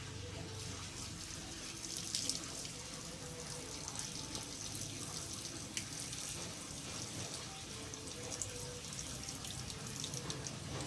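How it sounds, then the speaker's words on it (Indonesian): A mixture of battery water and plain water pours out slowly, giving a steady, soft trickling and splashing that runs on without a break. "Campuran dari akisur dan air biasa. Kita buang perlahan ya."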